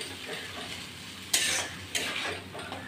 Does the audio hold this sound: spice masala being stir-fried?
yes